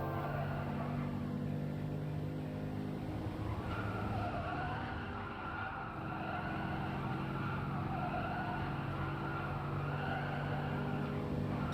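Race car engines in the video game Gran Turismo Sport during a final lap, a steady droning engine roar with layered harmonic whine that dips briefly midway and then builds again, with no talking.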